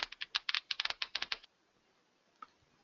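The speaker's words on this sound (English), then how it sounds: "We can only hear some typing and cracking sounds, actually." Rapid keystrokes on a computer keyboard, a quick patter of about a dozen clicks coming through a call line, followed by near silence and a single faint click.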